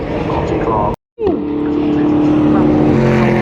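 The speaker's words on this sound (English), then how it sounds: "Look at these drivers getting some slide-away action on Paddock Hill." Ginetta race cars sliding through Paddock Hill at Brands Hatch give off a loud, close engine roar with rising and falling tones. The sound cuts out briefly, then returns with a sustained high engine whine.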